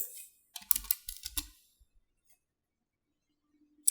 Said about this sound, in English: So click R on your keyboard and rotate.